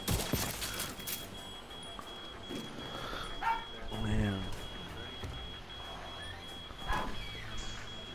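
A dog barks a few times in The Division 2, sharp, mid-distance yelps set among game noise, a steady electronic tone and scattered voices.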